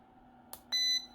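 Short electronic beeps from a power bank built from disposable vape batteries during a 100 W load test. A faint click is followed by a clear, steady tone lasting about a quarter second.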